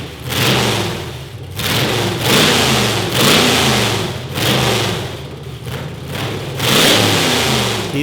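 A car engine fitted with custom straight pipes revs hard and loud in repeated bursts, dropping back briefly between each rise, close by and alone without any talk.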